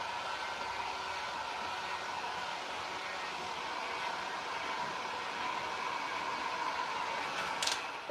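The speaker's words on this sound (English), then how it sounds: "Don't heat gun your stencil." A heat gun blows steadily on a stencil during a radio cabinet makeover, producing a constant close whirring hiss of air that stays even throughout.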